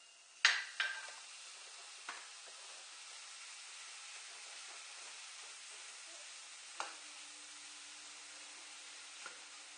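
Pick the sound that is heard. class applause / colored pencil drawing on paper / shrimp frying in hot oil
shrimp frying in hot oil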